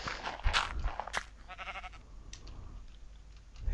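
Sheep bleating in the Minecraft video game, a few short wavering calls up close, mixed with game noises and background music.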